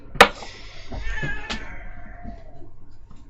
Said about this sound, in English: Cat, noisy. Why did I bring you in here?